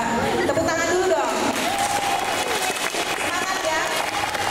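Students at a school motivational seminar clap and cheer, a noisy crowd sound with whoops and chatter mixed in, fairly loud and continuous.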